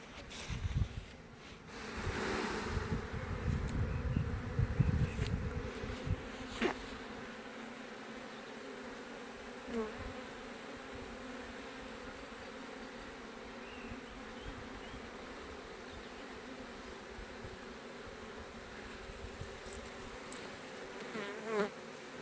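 Honeybees swarm in a dense buzzing as a frame is shaken over a four-compartment hive, loud and busy at first, then settling into a steady hum.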